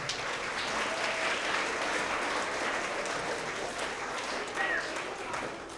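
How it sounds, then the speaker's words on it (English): A school award assembly crowd claps for parent volunteers, with steady, dense applause filling the room for several seconds before tapering slightly near the end. "Let's give them a big round of applause."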